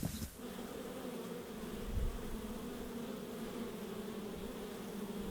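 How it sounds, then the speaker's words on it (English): Bees hum steadily around a backyard fish pond where a wild hive is being removed, a faint, continuous buzz with no voices. "got some bees in her fish pond"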